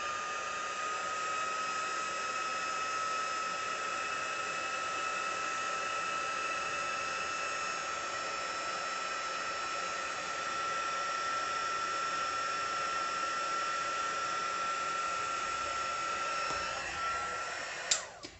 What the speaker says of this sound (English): as my heat gun is here, let's go for it.